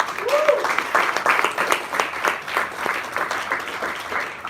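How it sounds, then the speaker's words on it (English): Audience applause at a time management workshop, dense steady clapping from a roomful of people carrying on for several seconds, close and fairly loud. "Let's give Zach a round of applause."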